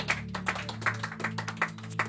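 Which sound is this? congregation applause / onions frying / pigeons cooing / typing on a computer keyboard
congregation applause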